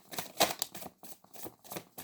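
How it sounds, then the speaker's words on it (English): Tarot cards being shuffled by hand in quick rhythmic bursts of riffling and slapping, close and fairly quiet, with short pauses between passes. "One more shuffle."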